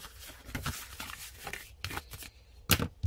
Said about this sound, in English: now to take off our strip of tear and tape.